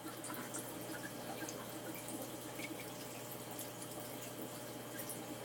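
Water flushing steadily out of an RODI filter unit, a constant rushing, gurgling flow with no breaks.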